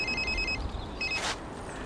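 A mobile phone rings in two bursts of electronic tone, moderately close, the second cut short before a brief rustle, with no one speaking.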